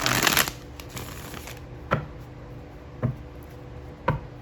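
Tarot cards shuffled by hand: a dense riffling burst at the start, then three soft, evenly spaced taps of the deck over quiet room tone.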